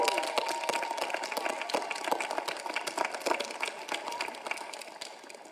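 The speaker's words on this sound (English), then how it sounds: "One more round of applause" Audience at a high school graduation ceremony claps in a steady, moderately distant wash of applause that fades gradually.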